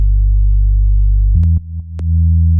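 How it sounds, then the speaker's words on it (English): A synth sub bass made from a sine wave frequency-modulated by another sine wave. It holds a loud, steady low drone, then shifts pitch and breaks into brief clicky blips before settling again. "for the sub, it's actually just a sine wave with a little bit of FM from another sine wave"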